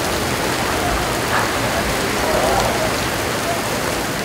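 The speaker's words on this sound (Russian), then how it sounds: "А под занавес второго тайма на стадион «Труд» обрушился мощный ливень." A heavy downpour hammers Trud stadium late in the second half of a football match, a dense, steady roar of rain that stays loud and even throughout.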